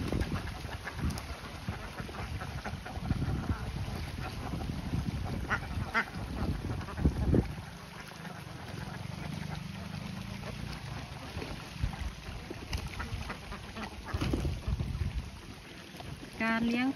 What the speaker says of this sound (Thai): สำหรับการปล่อยเลี้ยงเป็ดลงน้ำ